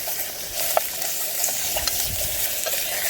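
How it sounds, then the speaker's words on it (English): Steak browns in a titanium pot during an outdoor wild-camping cook, a steady close sizzle with scattered scraping clicks of stirring and no talk. "So we'll just get that steak browned off, and as I said before, this is going to be a one pot meal."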